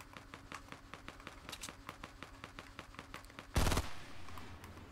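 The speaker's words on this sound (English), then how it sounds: "I heard a shot." Gunfire in Fortnite Battle Royale: a run of rapid, evenly spaced shots over about three seconds, then one louder, sharper blast near the end, with game sounds behind.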